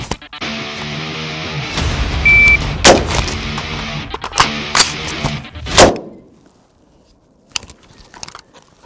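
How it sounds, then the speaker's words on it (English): A rifle broken down during a reload: a continuous mechanical rattle, then several sharp metallic clacks and snaps up close, with a few faint clicks trailing off after a quiet pause. "All right, same thing, breaking the rifle down this time."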